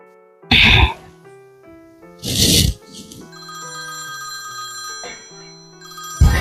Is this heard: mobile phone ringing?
yes